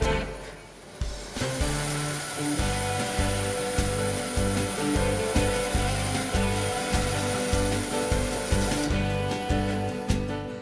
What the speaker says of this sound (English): Working with the bandsaw table set at an angle, both of the round pieces can be cut out.